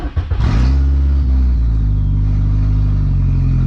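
A VW Golf car engine cranks briefly, then catches and settles into a loud, steady idle close by, with no talking.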